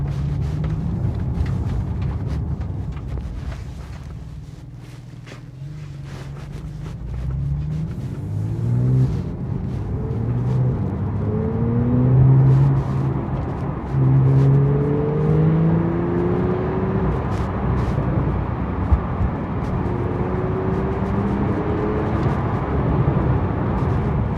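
A 2018 Porsche 911 Carrera T (991.2) with sports exhaust engaged revs and rises through gears, with a throaty exhaust rumble and burbles on the downshift, loud and close throughout.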